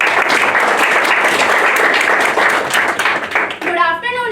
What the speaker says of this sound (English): Welcome our first Deputy President with a huge round of applause.